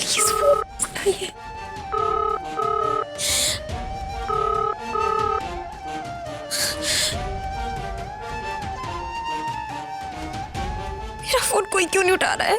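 A telephone rings repeatedly in a patterned electronic tone that keeps going unanswered, interrupted by brief bursts of speech between rings.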